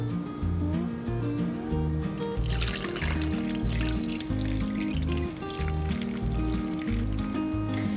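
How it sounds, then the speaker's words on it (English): Warm unchlorinated water poured into a bowl for sourdough sandwich bread gives a splashing, hissing rush for about two seconds, set against steady background music. "The next step is to add 426 grams of that warm unchlorinated water."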